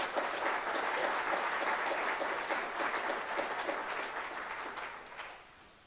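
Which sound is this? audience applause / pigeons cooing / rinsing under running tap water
audience applause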